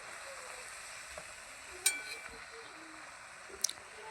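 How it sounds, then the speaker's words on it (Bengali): Greens sizzle as they fry in a wok and get stirred, giving a faint steady crackle with a couple of sharp spatula scrapes against the metal. "তো ভালো করে শাকগুলোকে এবার নাড়িয়ে নিচ্ছি।"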